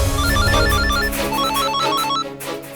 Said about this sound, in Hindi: तुम्हारे पापा का फोन आ रहा है।